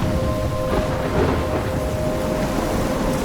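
Steady rain with a rolling rumble of thunder in a stormy night scene from the video game Life is Strange, a dense, continuous downpour wash that stays loud throughout with no voices.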